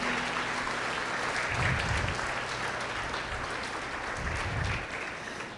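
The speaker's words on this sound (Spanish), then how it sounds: "Dele un aplauso al Señor" A church congregation applauds steadily throughout, a dense, sustained wash of clapping in a large room with faint voices underneath.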